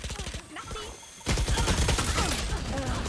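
Rapid bursts of loud video game gunfire crackle and rattle, with a brief lull before a dense barrage resumes close by.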